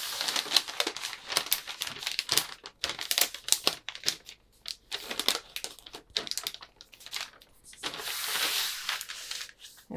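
Paper crinkling and rustling as a paper pattern piece for a size 8 womenswear back bodice is folded to close a dart on a tabletop, in irregular close bursts with a longer sustained rustle near the end.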